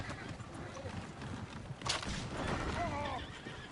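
Horses neighing in Red Dead Redemption 2, a couple of rising whinnies near the end over a noisy background of hooves and movement, moderately close.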